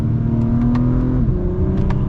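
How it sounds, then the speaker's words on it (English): A 2021 Acura TLX Type S revs its engine through the exhaust, a loud, steady, close-up drone that holds one pitch and then drops lower partway through, heard alone with no talk. "That's such a nice exhaust note."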